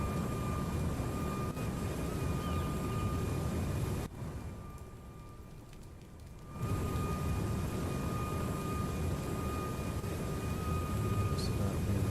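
Steady, loud engine drone of a VTOL aircraft in a flight video game, continuous broadband roar that drops out briefly partway through and then resumes at full level.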